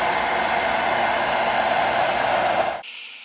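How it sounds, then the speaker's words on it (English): A hairdryer blows steadily on a 35-year-old leather steering wheel, a loud, even whooshing rush that runs almost three seconds and then cuts off abruptly, leaving a faint hum. "Let's use the hairdryer now to warm this thing up."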